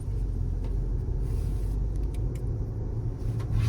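A 2023 Toyota RAV4 LE AWD pulling away from a stop, its engine a steady, loud low rumble heard from inside the cabin with no one talking.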